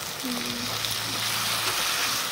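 Tomatoes and curry leaves frying with onion and ginger-garlic paste hiss in a steady, moderate sizzle throughout, with faint background voices murmuring underneath.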